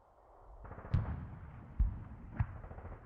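Mortar fire in the war game Squad Battles Eagles Strike: three muffled low thumps spaced about a second apart, moderately near, over a quiet background hum with no voices.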